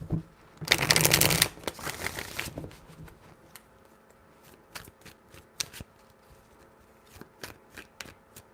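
Tarot cards are riffled and shuffled in a loud burst, followed by scattered light taps and flicks as the deck is handled, no speech.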